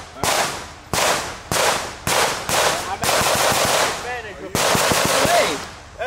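Pistols fire at steel targets at a Tampa, Florida gun range: loud, close bursts of several rapid shots in quick succession, with sharp cracks and ringing metallic hits, and brief pauses between strings.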